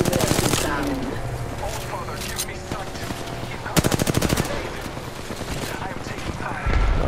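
Automatic gunfire in the video game Apex Legends, with rapid crackling bursts and a sharp, dense volley midway, layered over busy in-game effects at steady high loudness.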